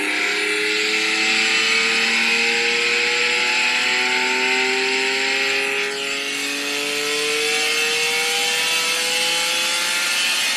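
A Ferrari V12 racing car engine howls loud and close at high revs, the pitch climbing smoothly as it accelerates, with one brief dip partway through before pulling hard again.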